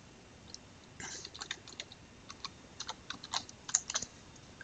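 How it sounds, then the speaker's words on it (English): A computer keyboard is typed on in scattered bursts of crisp, close key clicks, starting sparsely and growing busier, with no voices present. "I press enter, and I type my paragraph."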